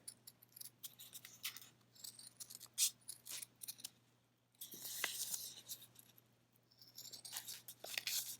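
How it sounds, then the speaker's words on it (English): Fabric scissors snip along a pinned sewing pattern for a bug body, giving a run of short, crisp cuts with faint rustling and brief pauses, close and quiet. "use your scissors to carefully cut around the dark line"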